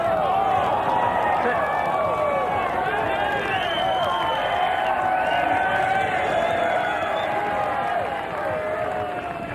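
A large gallery at the LIV Golf Invitational at Bedminster roars with cheers and applause for a shot over water, a loud, dense and continuous crowd noise with whoops that holds for about nine seconds.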